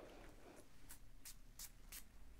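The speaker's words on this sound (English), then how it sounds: "I'm going to use it to start spritzing my bed every morning." Spray bottle misting a bed, four short bright spritzes in an even rhythm after a soft rustle, close-up and crisp over a quiet background hiss.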